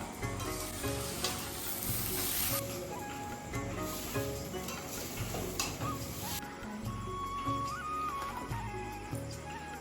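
Food fries in a pan with a loud, steady crackling sizzle that rises and eases at times, heard up close.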